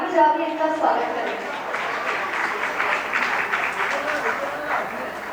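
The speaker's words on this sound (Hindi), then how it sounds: "सभी लोग ताली बजा के इनका स्वागत करें।" An audience at an Aarti honour ceremony in Dhar, Madhya Pradesh, claps to welcome guests, with steady, fairly loud applause that carries on throughout, a voice briefly heard at the start.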